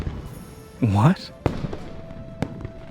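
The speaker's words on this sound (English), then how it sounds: "The fireworks are too loud." A single firework bursts in a Love and DeepSpace New Year's cutscene, a brief whistling rise into a pop, followed by a few sharp distant cracks over a quiet background.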